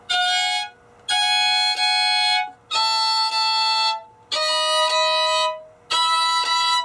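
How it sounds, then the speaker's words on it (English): A violin plays slow sustained double stops from a song in five separate bowed strokes with short gaps between them, loud, clear and close, with no talking. "So slowly the double stop will sound like this."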